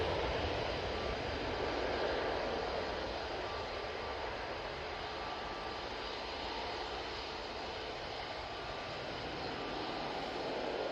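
A Jet2 Boeing 737-800 taking off from Manchester Airport, a loud steady broadband engine roar that holds for several seconds without speech.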